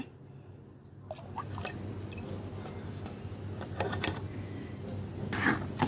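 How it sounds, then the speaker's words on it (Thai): Frothy yeast starter for lime wine is poured into a fermentation bucket, a close, soft gurgling and splashing stream with a few drips, steady and fairly quiet. "ก็พร้อมที่จะเทลงถังสำหรับหมักแล้วนะคะ เราจะเทลงไปเลยนะ"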